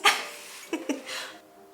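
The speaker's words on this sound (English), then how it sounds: "My dog's just making some very dramatic noises." A dog lets out a sharp snorting sneeze, then two short huffing grunts and a breathy exhale, close by with no talking.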